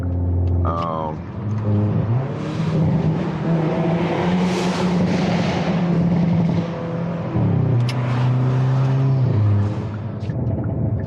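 A Hyundai Kona N engine revs up and holds a loud, roaring exhaust note in an underpass, then drops and rises again, with a few sharp crackling pops.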